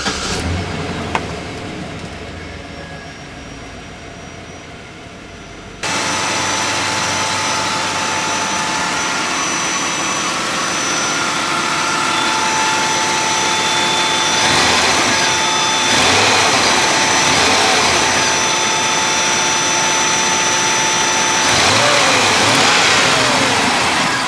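A Cadillac Fleetwood engine cranks and starts after several seconds of quiet, then idles steadily and loudly, with a few brief revs later on.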